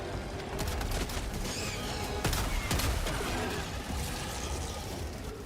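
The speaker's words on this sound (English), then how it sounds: "I don't fire this thing in bursts, I just set it to semi and then spam fire" Rapid semi-automatic gunfire spam-fired in Helldivers 2, a steady stream of sharp shots with a few louder cracks, amid constant game combat noise and no talk.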